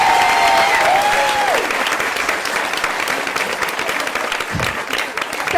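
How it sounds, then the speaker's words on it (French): An audience at a French stand-up comedy show claps and applauds for a volunteer on stage, a dense, loud burst of applause that holds steady before thinning slightly, with a brief whistle near the start. "Je propose qu'on applaudisse Julien."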